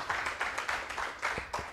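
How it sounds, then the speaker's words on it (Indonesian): Applause from an audience at a seminar gathering, a short burst of clapping with several distinct, fairly loud claps standing out over a steady patter. "tepuk tangan buat BBS besok"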